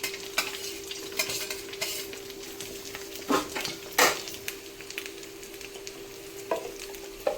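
Egg frying with chopped onion and green chili in a pan, a soft steady sizzle broken by repeated sharp scrapes and clinks of a utensil against the pan, some louder strokes, close and without talk.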